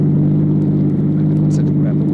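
Car engine in a 1949 radio drama sound effect, a steady loud low rumble that holds for a couple of seconds with slight surging, heard close and alone without talk.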